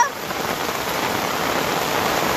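Heavy nor'wester (Kalbaisakhi) rain pours down in a dense, constant hiss of drops hitting surfaces, loud and close, with no voices.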